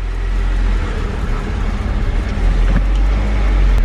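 A BMW's N54 engine runs rough with a misfire blamed on a failing ignition coil, making a loud, close, continuous rumble that turns choppy and uneven partway through.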